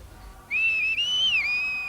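A single clear whistled tone, sustained for over a second with small pitch dips and a rise, close and loud against a quiet background.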